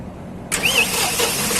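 A new John Deere 5405 4x4 tractor with a CRDi diesel engine cranks and fires at close range, jumping abruptly from a quiet hum to a loud, steady running roar.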